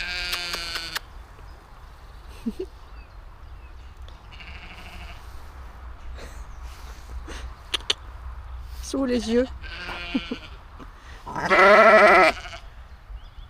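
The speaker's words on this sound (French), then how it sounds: "Mes copains les moutons sont là." Sheep bleating in a field in the Netherlands, with several calls scattered over steady outdoor background noise and one loud, drawn-out bleat near the end; a person speaks briefly.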